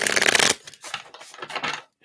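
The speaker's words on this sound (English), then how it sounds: "let's give these a shuffle" A deck of tarot cards is riffled in one loud burst, followed by softer shuffling and card handling in quick uneven patter, close and alone.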